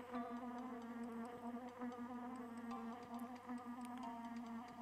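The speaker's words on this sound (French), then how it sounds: "Pourquoi il y a une abeille luciole qui a le feu aux fesses?" Buzzing of a firefly bee in the video game Kingsley's Adventure, a steady insect-like drone with a layered tonal hum that continues without a break over game sounds.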